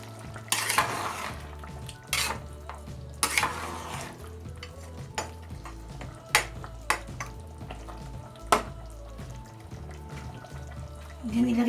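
Spoon stirring beef kaldereta with potatoes in a pot, scraping and clanking against the metal in uneven strokes over a low simmering sizzle, close and fairly loud.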